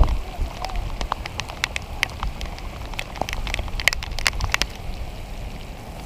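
Heavy rain pours outdoors, a dense steady hiss with scattered sharp drop impacts and patters close by, continuous throughout with no voices.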